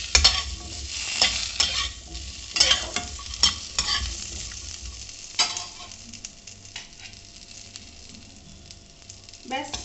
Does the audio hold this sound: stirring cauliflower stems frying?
yes